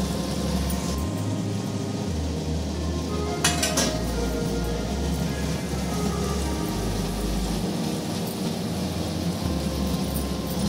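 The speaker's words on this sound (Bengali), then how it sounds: "এবার আমি আলুগুলো দিয়ে দিচ্ছি।" Steady frying sizzle fills a pan as lightly boiled potatoes go into fried spices for egg curry, with a quick metallic clatter partway through and a low hum underneath.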